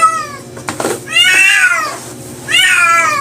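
A cat meows loudly and close up, three drawn-out cries with short pauses between them.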